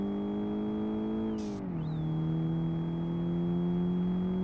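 Car engine in BeamNG drifting on a winding mountain road, a steady droning hum with a brief pitch dip as the revs fall, then holding a low even tone, with a short whir.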